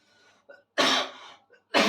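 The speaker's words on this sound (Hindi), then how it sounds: "ये खांसी हमको इतना दुलार काहे कर रहा है आज।" Two short, harsh coughs come close to the microphone, separated by a brief pause, with faint throat noise before the first.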